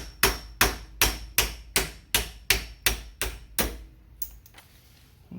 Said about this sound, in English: I'm gonna take my little 2-pound sledge.